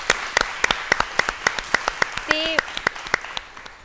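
A stage audience claps in unison, with sharp, evenly spaced hand claps keeping a brisk steady beat close by. A brief voice cuts in partway through.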